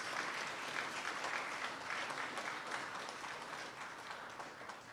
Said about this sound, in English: Please give them all a good round of applause